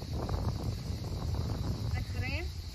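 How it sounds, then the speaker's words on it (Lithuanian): Strong wind buffets the microphone with a dense, steady roar and rumble across the whole span, and a voice comes through faintly partway in. "Lietiši vėjas čia didelis, labai didelis vėjas."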